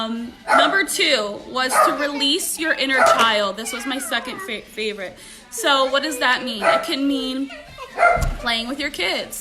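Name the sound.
dogs barking in the background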